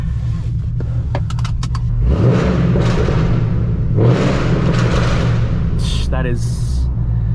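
A 5th-generation Camaro with a straight-piped exhaust rumbles loudly at idle near 500 RPM, then revs up and pulls away, its deep drone steady throughout while someone talks over it.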